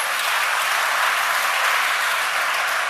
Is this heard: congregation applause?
yes